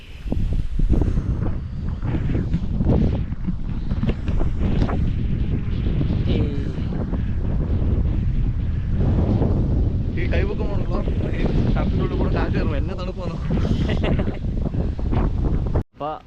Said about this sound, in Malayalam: കാറ്റാണ്, നല്ല കാറ്റാണ്, നല്ല കാറ്റാണ്.